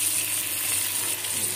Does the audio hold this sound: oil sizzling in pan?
yes